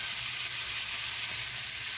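Tomato and onion sautéing with chili powder for an okra kara kuzhambu, a dense, even hiss of frying that holds steady and fairly close throughout, with no talk.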